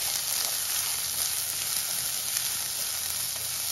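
Finely chopped onion sautéing in hot oil for a Malvani potato-onion curry, a dense, even, loud sizzle holding steady throughout.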